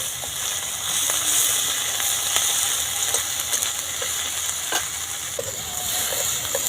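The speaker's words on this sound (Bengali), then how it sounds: "এবার বাটা পেঁয়াজটাও ভালো করে নেড়ে নেবো দিয়ে দেবো এক চামচ আদা রসুন বাটা" Onion paste and ginger-garlic paste are stirred in a hot frying pan for rui fish dopiaza, producing a continuous bright sizzle and hiss dotted with light scraping taps from the spoon, close and without talk.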